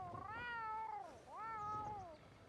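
A cat meows twice in the open world of Red Dead Redemption 2, two clear drawn-out rising and falling cries close by, with no talking.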